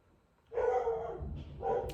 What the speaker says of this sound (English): If you can hear that, that's my dog.